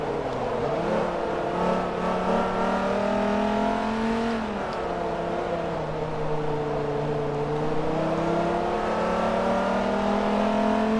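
A racing car engine in Forza Motorsport 3 revs hard and holds a loud, steady whine near the listener, with pitch climbing and shifting as the car accelerates through gears. No one speaks over it.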